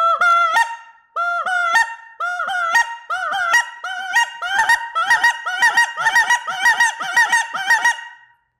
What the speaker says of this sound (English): So kind of this is what it sounds like, starting slow and then building your way up.